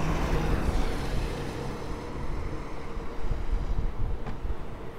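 A 2021 Nissan Patrol Platinum V6 engine idling, a steady low rumble heard close and fairly loud, continuous with slight swells in level and no talk over it.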